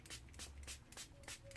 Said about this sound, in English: So you just fill it with regular water and it's a little tiny spray bottle type thing.